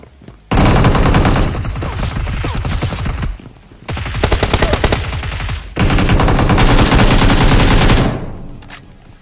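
Loud automatic gunfire from a mobile shooter game comes in three long sustained bursts of rapid shots, each lasting a couple of seconds, separated by brief pauses, close and dominant.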